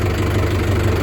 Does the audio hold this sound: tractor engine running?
yes